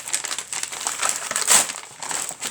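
Advent calendar door being torn open on the 24th day, giving a close, crisp rustle of crinkling paper and cardboard that swells briefly in the middle, with no talking.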